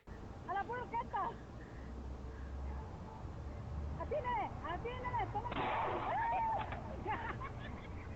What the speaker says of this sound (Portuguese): essa pequena senhorinha ali, ao tentar fazer um disparo de uma espingarda